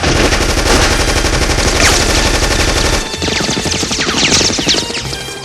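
Loud, rapid machine gun fire rattles continuously as a sound effect in a radio drama battle scene, a dense burst that dips briefly after a few seconds and then continues.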